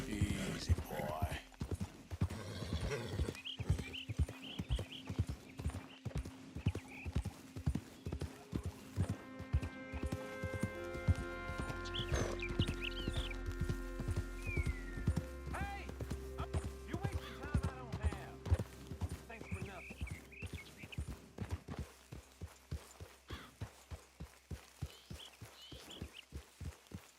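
Horse hooves clip-clopping in Red Dead Redemption 2, a rhythmic close stream of hoofbeats that slows and speeds up, with a horse whinny, a musical score and a voice partway through.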